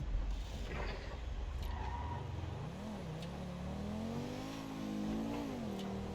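A Lamborghini Gallardo supercar engine revs in the video game GTA V, a loud, close, steady growl that rises and falls in pitch as the throttle swells, with no talk over it.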